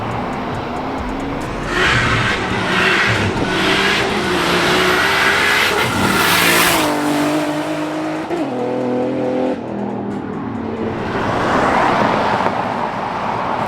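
JDM car engine heard from outside on an English farm, a loud near revving roar that climbs and falls through repeated gear pulls with sharp pitch changes, then quiets briefly before rising again.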